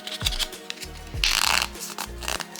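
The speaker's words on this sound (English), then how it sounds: "we're gonna fold it towards us." A paper petition folded toward the folder, giving a few close crisp crinkles and soft creasing rustles, with one brighter burst of paper noise in the middle.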